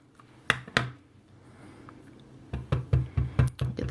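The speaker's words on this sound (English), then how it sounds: "I'm going to stamp the wine glass." A rubber stamp bearing a wine glass image is pressed onto a greeting card: two sharp taps early on, then a quick series of about seven rhythmic thumps on the tabletop, close and dry, with no talk.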